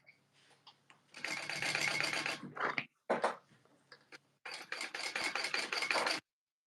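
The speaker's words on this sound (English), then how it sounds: "you're top stitching along the bottom main panel" A sewing machine top-stitches along the bottom main panel of a tote bag in uneven bursts, with a quick stop-start stretch in the middle before a longer final run.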